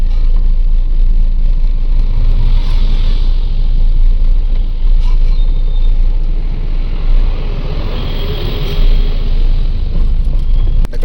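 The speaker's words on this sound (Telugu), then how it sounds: "ఆపోజిట్లో లారీ అయితే ఘాటెక్కుతుంది" A lorry slowly climbing a ghat road in the rain, a loud, steady low engine rumble that holds constant without pauses, heard close.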